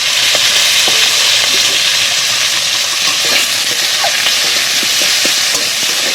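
Chopped onion and tomato hitting hot oil seasoned with black cumin seeds, giving a loud, continuous sizzle with small crackles and pops as the mixture is stirred, close up and alone.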